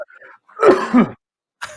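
A single throaty cough or throat clear, close and brief, with a short raspy burst and a breathy trailing sound.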